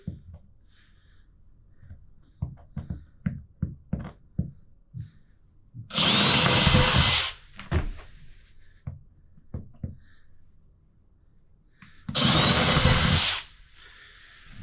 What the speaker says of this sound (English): I'm using a 1/4-inch drill bit, and we're just gonna give it a shot.